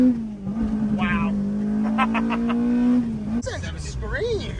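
An Acura RSX Type S with a swapped K24 engine and Type R parts revs hard from inside the car, a strong steady engine drone climbing in pitch for about three seconds before dropping off, with brief talk around it.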